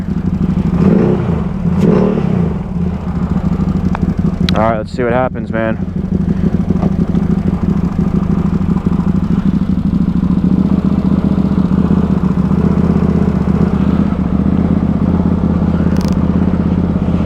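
Can-Am side by side engine and exhaust revving up close, a steady loud drone with sharp rising rev bursts in the middle, under someone talking.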